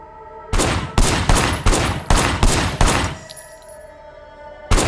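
Rapid bursts of gunfire from a firing position in the Sleeping Dogs game: a rhythmic run of loud, close shots that break off into a quieter pause, then one final shot.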